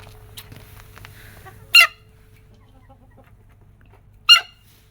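Chickens and roosters, including a bantam rooster, in a farmyard. Two brief, loud squawking calls a few seconds apart stand out against an otherwise quiet background.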